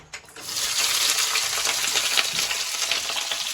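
Onions frying in a kadai pan, a steady broad sizzle that starts abruptly and holds loud and close throughout, with no voices.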